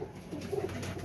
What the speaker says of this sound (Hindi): कबूतर अब बोल रहा है